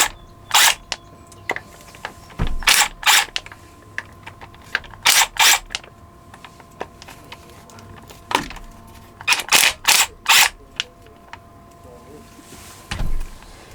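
An impact wrench backs out 10 mm bolts from the fresh water pump on a Universal M2-12 diesel engine, firing in short loud rattling bursts, some single and some in quick clusters, with quiet gaps between.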